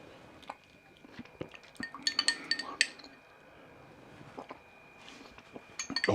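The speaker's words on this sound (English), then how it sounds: "Give that a bit of a stir." Spoon clinking against a bowl of mint sauce in a cottage kitchen, a quick run of light, close ceramic taps and scrapes at a moderate level, with softer handling sounds before and after.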